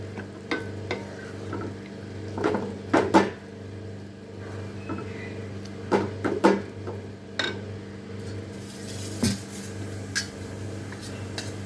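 Mashed dal being added to a pot of ridge gourd, with soft wet scraping and spoon knocks against the pot in scattered clusters over a steady low hum.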